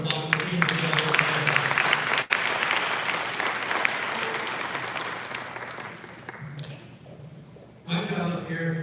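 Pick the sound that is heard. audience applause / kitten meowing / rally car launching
audience applause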